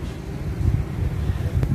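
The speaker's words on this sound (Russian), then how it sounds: "Ветер." Strong wind buffeting the microphone in a steady low rumble during a jeep safari in the desert near Hurghada, Egypt, loud and continuous without speech.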